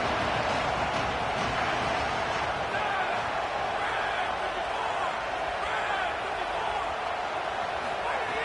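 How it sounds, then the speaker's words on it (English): A stadium crowd in a college football video game roars in a steady, dense wash of cheering on a third down, continuous throughout. "Crowd getting this defense whipped up on third down."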